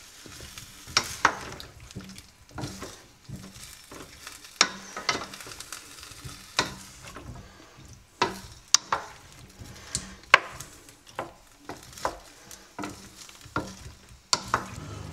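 Curried cauliflower frying in a pan is stirred with repeated scraping and clattering strokes over a soft sizzle, the strokes coming in an irregular rhythm, close and fairly loud, with no voices.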